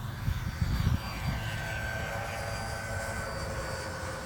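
An E-flite EC-1500 twin-motor RC airplane flies overhead with a steady, distant whine and drone that stays even and fairly faint after a short, louder gusty rumble at the start.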